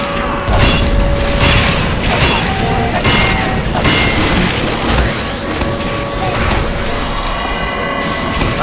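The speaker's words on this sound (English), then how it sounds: "Sentry going up!" An Engineer's sentry gun being built in Team Fortress 2, with whirring and ratcheting mechanical clanks over loud game noise and blasts during a competitive match.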